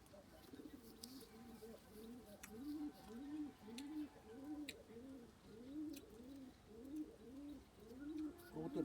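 Pigeons coo from a rooftop garden in a steady run of repeated, rhythmic calls, moderately close but quiet, with occasional faint clicks and no one speaking over them.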